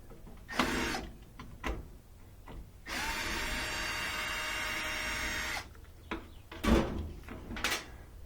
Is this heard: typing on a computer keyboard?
no